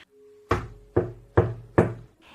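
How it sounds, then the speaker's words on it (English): Four firm knocks on a wooden surface, evenly spaced about half a second apart, close and loud with no talking. "Knock on wood."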